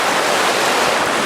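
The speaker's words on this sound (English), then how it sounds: "You may be able to hear the noise of the water running over the small weir here at the moment." Water rushes steadily over a small weir on a grayling river, a continuous broadband roar that is loud and close with no pauses and no talking.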